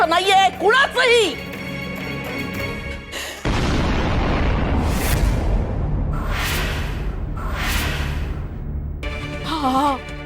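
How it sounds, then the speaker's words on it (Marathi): An explosion bursts in a dramatic household scene: a deep rumbling boom with whooshing swells follows someone's agitated speech, and talking resumes near the end. "हा स्फोट कसला झाला?"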